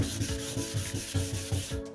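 400 grit sandpaper is worked back and forth over a yellowed car headlight, wet sanding in steady rhythmic strokes, each pass a close, gritty rub repeating about every quarter second.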